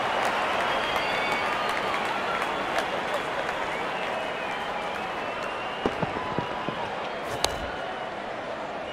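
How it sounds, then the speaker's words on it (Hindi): Spectators at a Pakistan 11 vs WINd 11 cricket match applaud a batsman's fifty, a steady, distant wash of clapping and crowd noise under commentary, with a few sharp claps standing out near the end. "दर्शक इस 50 रन को अपने तालियों से सराहते हुए।"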